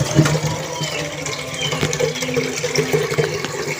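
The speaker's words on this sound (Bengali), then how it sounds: "পরিমাণ মতো পানি দিয়ে দিই" Water is poured steadily into a cooking pot while fish is being prepared, making a continuous splashing, filling sound that stays close and fairly loud with no talk over it.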